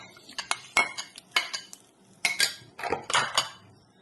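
Salad ingredients with black grapes, chilli flakes, yogurt and honey tossed in a bowl: a close series of irregular clinks and scrapes of a utensil against the dish, with short pauses between strokes and no talk.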